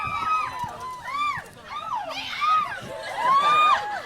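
A studio audience at a film interview event for Divergent cheers and whoops loudly, with rising and falling shouts and squeals in waves throughout.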